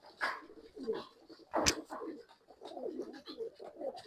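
Pigeons cooing inside a breeding cage, soft throaty coos close by, repeating in low murmuring bursts with one brief louder rustle.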